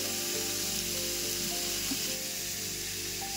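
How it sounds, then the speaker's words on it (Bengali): Cauliflower pieces fry in a pan with salt and turmeric, giving a steady, continuous sizzle close up with faint crackles and no voices. "ফুলকপিগুলো একটু লাল লাল করে ভেজে নেব।"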